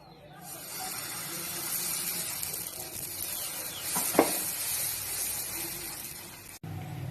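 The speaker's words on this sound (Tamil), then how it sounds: "நம்ம தோசை ஊத்திக்கலாம்." Garlic masala dosa batter poured onto a hot griddle gives a continuous loud sizzling hiss that runs steadily for several seconds before cutting off abruptly.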